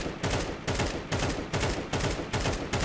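Sustained automatic gunfire in Counter-Strike 2, fired in several rapid bursts of roughly half a second each with brief gaps between, loud and close with no talking.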